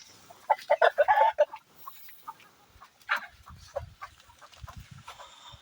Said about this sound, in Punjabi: ਇਹ ਆ ਬਰਮਾ ਨਸਲ ਦੇ ਕੁੱਕੜ ਆ